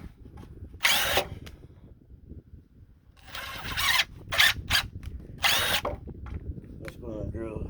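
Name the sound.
power drill drilling into truck bed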